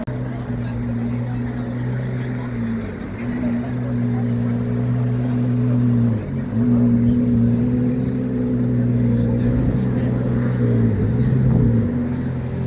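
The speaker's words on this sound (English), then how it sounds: "I think there's another Ferrari leaving here" A Ferrari 812 supercar pulls away at a supercar meet, its steady engine drone holding loud and close throughout with small dips as it shifts, against constant background noise.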